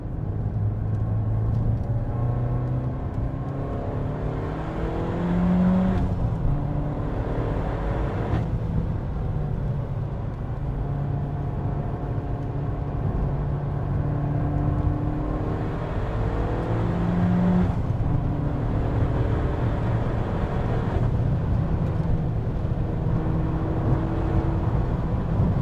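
A Peugeot 308 GTi runs flat out around Anglesey Circuit, its engine droning loud and continuous from inside the car, with pitch rising through the gears and dropping at shifts and braking zones.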